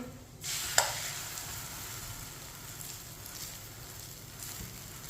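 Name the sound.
paratha frying on a pan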